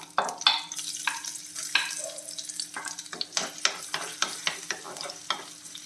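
Curry leaves, ginger and garlic frying in hot oil for a fishless fish curry, crackling and spitting close up with repeated sharp stirring scrapes and taps against the pan, no voices.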